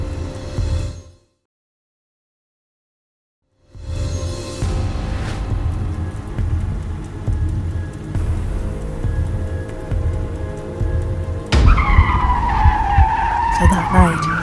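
A car skids hard on a cliffside road and plunges off the edge, with a sustained loud screech of tires ending in a harsh, rising burst of noise.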